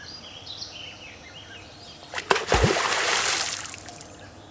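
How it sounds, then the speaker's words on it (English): Small critter at a gold prospecting creek slaps the water, a few sharp close splashes and sloshing after a quiet stretch with birdsong in the background. "he quickly scopes me out and starts slapping the water around"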